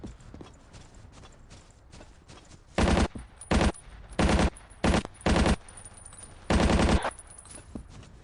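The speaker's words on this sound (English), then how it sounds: "You can see there how accurate the medic's machine gun is, even at a pretty good distance." A medic's machine gun in the World War II shooter Battlefield 1942 fires six short, loud bursts of rapid shots at irregular intervals, over quieter background game noise and distant clatter.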